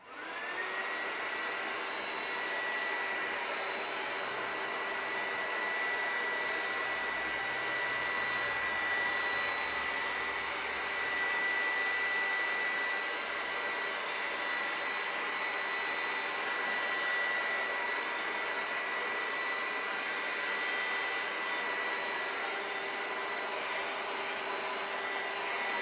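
Hair dryer blowing hot air onto a balloon, a steady close whining whoosh that starts up and runs continuously without pause, with no talking.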